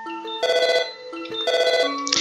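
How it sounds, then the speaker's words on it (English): Repeated ringing from the video game Undertale, two bursts of bright electronic telephone-style trills with short pauses between them, close and clear with no talking. "that ringing is also getting on my nerve"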